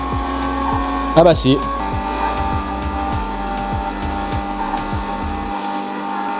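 Subaru Impreza engine in the driving video game Driving Limits, a steady high-revving drone at speed with a rising whine and an oddly generic tone, heard under a brief spoken exclamation.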